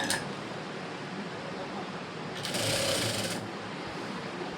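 A sewing machine stitching a blouse runs in a steady, dense mechanical whir, swelling louder and brighter for about a second near the end before settling back to its continuous hum.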